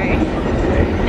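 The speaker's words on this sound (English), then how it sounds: "We're in the B train on the way to Penn Station." B train subway car riding toward Penn Station in New York, with a loud steady rumble and rattle of wheels on track filling the short stretch, close and continuous.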